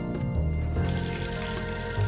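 Geothermally heated hot water gushing from a tap in Reykjavik, a steady rushing flow, close and continuous, with no talking.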